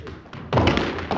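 Squash ball struck during an advanced coaching drill, giving a couple of solid thuds off racket and wall close by, with a sustained dull thump between them.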